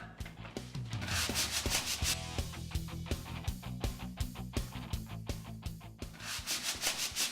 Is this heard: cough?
no